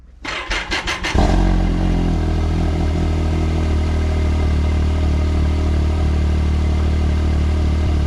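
A Can-Am Maverick X3 side-by-side that has sat in the cold on a weak battery cranks in a quick stuttering run, then catches and settles into a loud, steady idling engine rumble close by.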